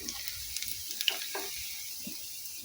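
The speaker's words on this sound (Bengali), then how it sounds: "দিয়ে এটাকে ডিপ করে ভেজে নিচ্ছি" Chicken and vegetable pakoras deep frying in hot oil, giving a soft, steady sizzle with a few faint crackles and light clinks, close but quiet.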